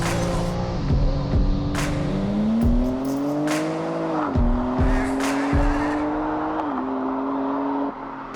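A BMW G8x creeps frontwards into a garage. A low engine hums with revs shifting, and short tire squeaks come from the floor. The sound is close and moderately loud, and nobody speaks.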